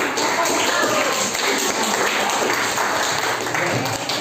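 A classroom group applauds after a student group's presentation, a dense, steady wash of many hands clapping at once, with voices talking over it throughout.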